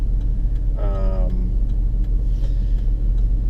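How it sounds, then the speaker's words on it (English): Bumper-to-bumper road traffic heard from inside a car: a steady, loud low engine and road rumble, with a brief voice partway through. "Man, look at this traffic."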